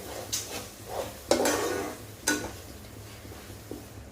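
Spice paste is stirred in water in a pan for egg curry, a few scraping, sloshing strokes with light clinks, close and moderately loud over a low hum, no talk.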